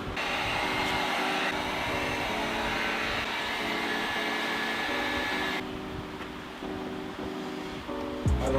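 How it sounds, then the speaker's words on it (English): A heat gun blows steadily while warming the adhesive under exterior trim on a Mustang GT, a loud continuous airy roar with a faint tonal hum that eases off and drops in level partway through. "take the heat gun, apply some heat to this thing, let the adhesive rise up"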